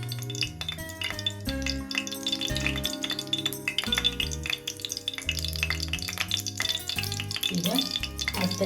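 Mustard seeds and cumin crackle and sizzle in hot oil in a pan for a moong dal and drumstick leaf palya, a dense, steady popping spatter with occasional utensil clinks, close and continuous.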